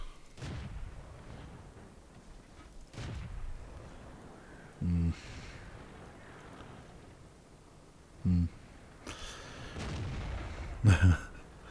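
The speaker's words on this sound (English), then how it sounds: "Somebody's shooting at me." Tank guns fire in World of Tanks, several sharp booms scattered through a quiet stretch with faint rumbling between, along with short buzzing game alert tones, moderately distant and with no talk.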